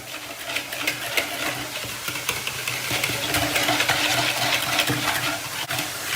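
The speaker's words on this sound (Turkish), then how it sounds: "Bir su bardağı soğuk su boşaltıyoruz. İyice bir çırpıyoruz." Flour is whisked into cold water in a bowl for a green lentil dish, making a brisk, continuous scraping and swishing that stays close and fairly loud throughout, with no talking.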